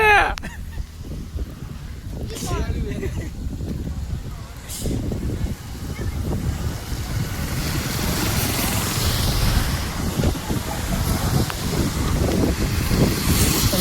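Strong wind with rain roars and buffets the microphone in a steady low rumble beside a highway near Rajkot, Gujarat, with voices talking faintly underneath throughout.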